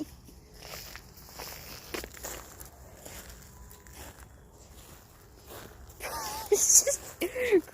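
Footsteps crunch over an ice crust left by spring freezing rain, a series of crisp steps that grow louder and sharper toward the end.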